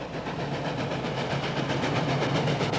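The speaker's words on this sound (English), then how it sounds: "stand back as the 2664 blasts up the grades on home rails in Virginia" Articulated steam locomotive 2664 working up a grade on rails in Virginia, loud rapid rhythmic exhaust chuffs over a heavy continuous rumble and hiss, close and steady without talk.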